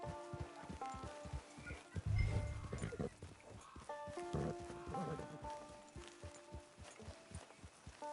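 Horse hooves clip-clop in a steady walking rhythm in Red Dead Redemption Online, close by, over a quiet musical background with a brief louder thump partway through.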